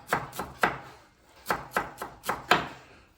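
A knife chops coriander stalks on a cutting board for Vietnamese spring rolls, with about eight crisp, close thuds in two quick rhythmic bursts separated by a short pause.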